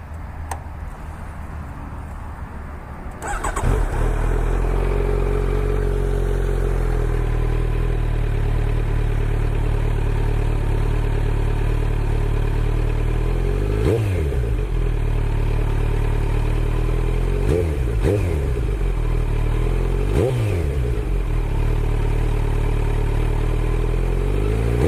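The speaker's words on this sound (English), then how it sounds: "here's a warm start of the Z900 with the GP-S1" A warm Kawasaki Z900 motorcycle fitted with a Pro Race GP-S1 slip-on exhaust cranks briefly and fires into a loud, deep idle nearby. Several sharp throttle blips rise and fall over the steady rumble.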